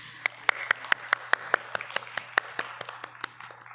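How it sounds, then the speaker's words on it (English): Audience clapping for the mridangam player at a Bharatanatyam arangetram, sparse, individual claps at a fairly regular rhythm, close and distinct, over a low background hum. "A big round of applause to our mridangist"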